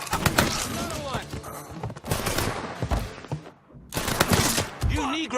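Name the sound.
gunfire in Mafia 3 video game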